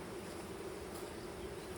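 Honey bees hum steadily around an open hive during a hive split, a soft continuous buzz that stays even and faint for the whole short moment, with no voices.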